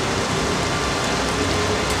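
Steady rain falls in the GZDoom video game, a dense, even hiss of drops hitting surfaces that holds at a constant level through the whole stretch with no voices over it.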